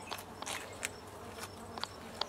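Honey bees buzzing around two colonies made from splits, with scattered individual bees flying close past in brief, louder passes over a quiet background hum.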